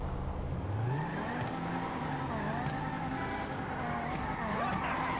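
A Banshee sports car engine in GTA Online drones steadily with rising and falling revs, a turbo whine riding over the low growl, continuous and fairly quiet throughout.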